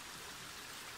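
A small tributary stream flows steadily, a soft, faint broadband wash of water with no voices over it.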